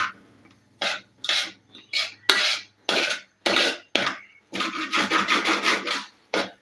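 Semolina upma being stirred in a pan, giving repeated scraping, rubbing strokes in uneven bursts with short pauses, close and fairly loud, no voices.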